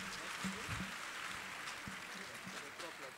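Soft, distant applause from an audience for a university theatre troupe at a student panel on immigration, a continuous low patter of clapping with a voice talking faintly over it.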